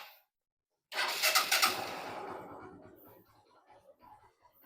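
A cold Honda Shine 125 motorcycle engine starting after a short silence: a quick starter whir catches into a loud burst of revs, then settles into a quiet, steady idle with a faint ticking knock in the rhythm.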